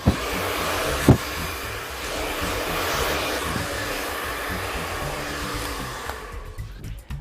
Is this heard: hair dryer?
yes